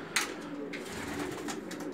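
Bulgarian breed pigeons coo softly in a low, steady murmur, with a few brief sharper chirps or rustles breaking through near the start and middle.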